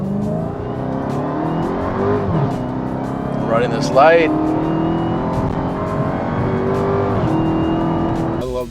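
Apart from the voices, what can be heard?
Dodge Hellcat car accelerating and driving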